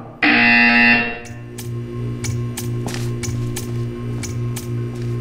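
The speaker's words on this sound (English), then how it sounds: "You will hear a buzzer. When you hear the buzzer, stare at the art." Loud harsh buzzer in the video game Portal 2, a sustained blare lasting about a second, followed by a string of sharp repeated clicks or taps over a low steady hum.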